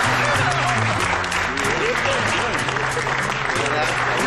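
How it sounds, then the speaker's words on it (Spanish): An audience at a prize announcement breaks into loud, sustained applause that fills the space, with crowd voices and cheering mixed into the clapping. "¡Fuertes aplausos!"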